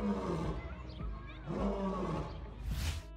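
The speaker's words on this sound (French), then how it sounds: "les lions peuvent rugir environ 50 fois en 90 secondes" A lion roars loudly and repeatedly, deep sustained bellows rising and falling close up with brief pauses between calls, no talking over them.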